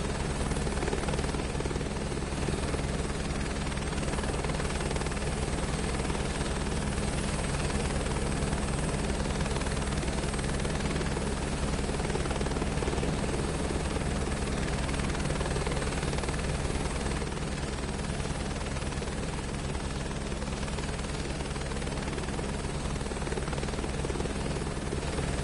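A helicopter in Microsoft Flight Simulator 2024 drones on loudly and unbroken, its rotor and turbine making a dense, steady buzzing roar throughout with no voices.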